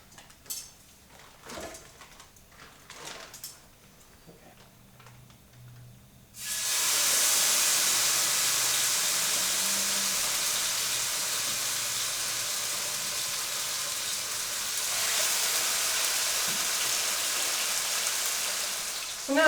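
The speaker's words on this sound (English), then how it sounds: "So now we're gonna let that salmon just cook up in here." Salmon coated in barbecue sauce hits a hot pan and bursts into a loud, steady sizzle that holds to the end, after a few quiet clinks and handling sounds at the start.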